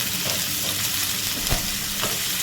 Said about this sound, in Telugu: ఒకసారి బాగా కలుపుతున్నాం.